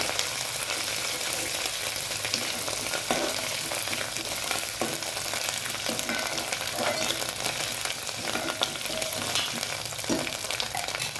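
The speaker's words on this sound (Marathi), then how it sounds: "कांदा भाजलेला छान तेलामध्ये मिक्स करून घ्यायचं।" Fried onion stirred through hot oil in a pan, a loud, continuous sizzle held close throughout, with faint scrapes of the spoon now and then beneath the steady crackle.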